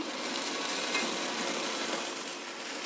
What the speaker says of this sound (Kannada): ಪಡ್ಡು ಹಾಕ್ತಾ ಇದ್ದೀನಿ